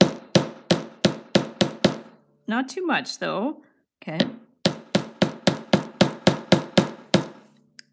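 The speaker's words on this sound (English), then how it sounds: "and I'm going to hammer this." A hammer strikes jewelry wire in sharp, evenly spaced blows, loud and close, in two rapid runs separated by a brief pause where a person speaks.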